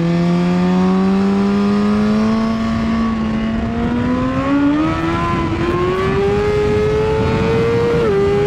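A BMW S1000RR racing motorcycle accelerates on track at Ridge Motorsports Park, its engine loud and close as the pitch climbs steadily through the gear, with a brief dip near the end, and no talk over it.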